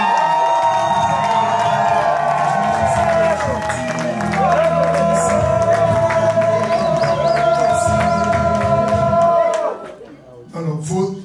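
Wedding guests at a Congolese ceremony cheer, whoop and applaud loudly after the vows, a sustained festive roar with shrill voices that cuts off near the end, leaving a brief lull and a few scattered shouts.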